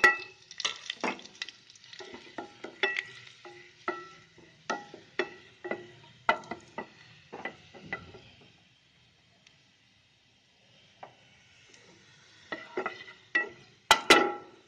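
Chopped green chillies hit hot oil in a pan for a gourd fry and are stirred, giving crackling bursts and spoon scrapes in uneven clusters, a quiet gap midway, then a loud sputtering burst near the end.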